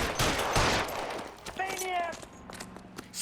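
Gunfire in the L.A. Noire video game during a chase, a few sharp shots mixed with shouting voices and game sounds, fairly close and loud against a busy background.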